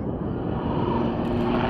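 A steady, loud rotor and engine roar from a helicopter flying an agile display at the Royal International Air Tattoo 2014, continuous with no pauses.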